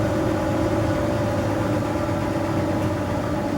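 A worn, clapped-out 4-liter car engine idles steadily and loudly up close, a constant low rumble with a faint mechanical whine running through it, no voices.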